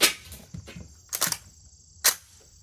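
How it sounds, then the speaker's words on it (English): A Vz58 rifle fires three separate sharp shots on an outdoor range, spaced about a second apart, with crisp cracks and short decay. "Let's put some rounds down range."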